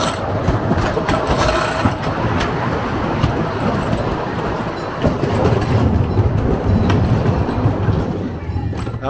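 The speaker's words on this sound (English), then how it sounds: "So how did you like your ride on the world's oldest roller coaster?" Riders on Leap the Dips, the world's oldest roller coaster at Lakemont Park in Altoona, PA: a loud, steady rattling clatter of the cars rolling along the track, with shouts and voices mixed in throughout.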